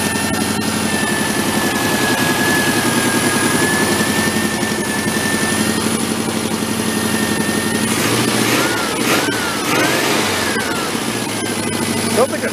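An old tractor engine idles with the choke fully off, a steady mid-range running note that drifts a little in pitch, close and continuous, with a brief voice and some clatter near the end.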